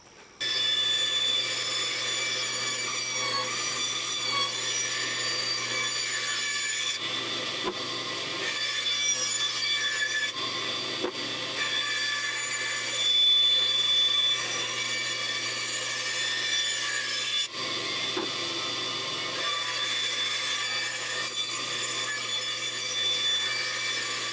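A saw cuts the shape of a wooden puffin push toy, running steadily up close with a couple of brief pauses and a sustained, buzzing rasp.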